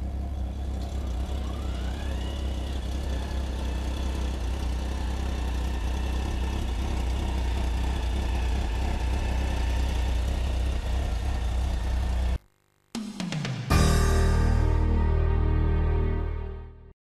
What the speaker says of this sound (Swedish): nämligen en backande motorcykel. En motorcykel försedd med backväxel.